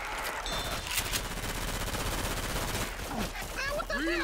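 Rapid automatic gunfire and bursts from the zombie shooter Left 4 Dead 2 rattle continuously, with sharp shots among game effects and voices talking over the action.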